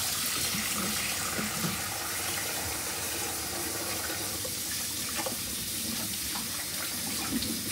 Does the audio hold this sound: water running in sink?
yes